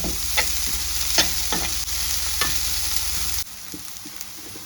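Chicken liver fries in a pan as ginger garlic paste goes in, a steady close sizzle with a few soft stirring clacks, then the sizzle drops quieter near the end, with no talking.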